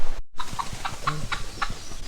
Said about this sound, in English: We found the turkeys.